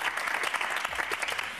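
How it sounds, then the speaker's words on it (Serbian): A studio audience at a television magazine show bursts into applause, a brief dense patter of clapping at a steady level from start to finish. "Ajde, prvo aplauz i krećemo."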